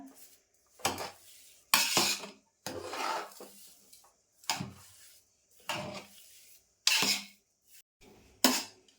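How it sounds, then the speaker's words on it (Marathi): Semolina sheera stirred in a metal cooking pot, heard as repeated scraping strokes in distinct bursts with clinks of the spoon against the pot, close and clear with no talk. "तर मस्त मुळापासून ढवळून घेतला आहे"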